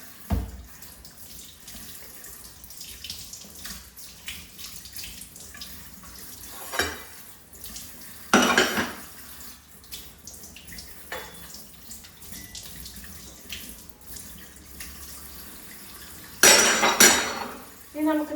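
A home kitchen sink tap runs in short intermittent bursts while dishes are washed, with clinks of pots and cutlery between the gushes and a little quiet talk.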